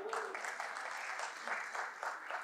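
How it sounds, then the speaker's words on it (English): A live audience at a comedy show bursts into applause, dense steady clapping sustained throughout with slight surges, no talk over it. "You're not supposed to applaud that."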